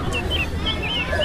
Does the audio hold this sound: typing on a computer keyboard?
no